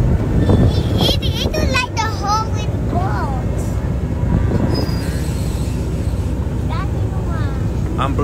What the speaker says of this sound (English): Riding a choo-choo train with the tank.